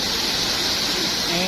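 Overflowing water gushes out steadily at a resort pool, a loud, dense, continuous rush close by with a faint voice underneath.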